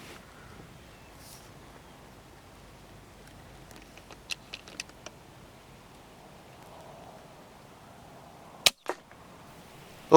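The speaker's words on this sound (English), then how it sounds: "Oops, sounds like I shot another one of my plastic decoys." Air rifle pellets strike plastic wood-pigeon decoys in the rain: sharp, faint ticks around the middle, then one louder crack near the end, over a soft, steady patter.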